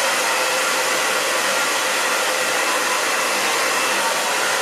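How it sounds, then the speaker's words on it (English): A hair dryer blows with a loud, steady whooshing roar, unbroken throughout and close by. "I just kind of take the brush and the hairdryer and I just curl."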